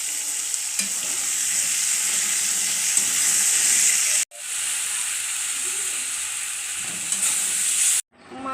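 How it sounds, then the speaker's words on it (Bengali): Food stirred in a pan as it fries, a steady loud sizzling hiss with soft scraping of the spoon, broken by two brief pauses, close by and with no voices. "নাড়াচাড়া দেওয়া হচ্ছে।"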